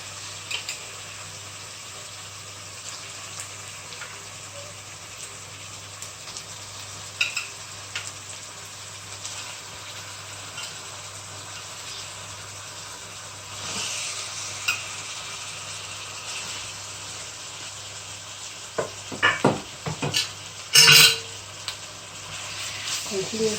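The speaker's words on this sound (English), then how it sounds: "Continue frying" Chicken and onion fry in a pan with a faint, steady sizzle under low background noise, broken by occasional stirring clatters and louder scraping bursts toward the end.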